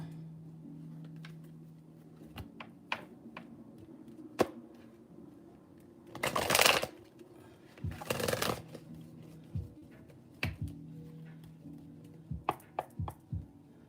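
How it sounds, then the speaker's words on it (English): Tarot cards being shuffled by hand, several separate bursts of crisp riffling and slapping, the two longest in the middle, among scattered soft taps and clicks against a quiet background. "I've shuffled like 5 times and this card keeps showing up"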